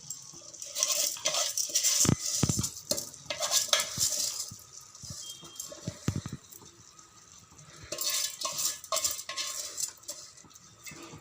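Rice being stirred and fried in a ghee tempering on the stove for ghee rice, with steady scraping and clinking of a spoon against the pan over a soft sizzle, loud in bursts.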